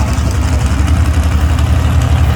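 A modified pulling tractor at a mini-mod tractor pull competition idles after being fired up, a steady loud low rumble that holds without change, with no voices over it.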